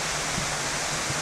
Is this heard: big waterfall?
yes